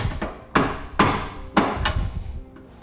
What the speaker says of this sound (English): slide our U-shaped spacer under row number one, and then drop in my carriage bolt